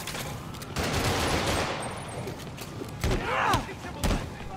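Gunfire in Marvel's Spider-Man Remastered on PS5, scattered shots and bursts ringing out amid game combat noise, moderately loud, with voices talking over the action.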